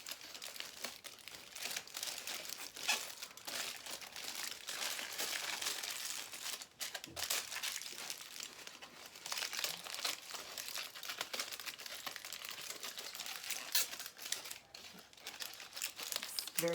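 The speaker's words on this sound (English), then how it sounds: "So we're just wrapping the toilet paper roll" A toilet paper roll being wrapped in tin foil gives close, continuous crinkling and crumpling that runs steadily the whole time, with sharper crackles scattered throughout.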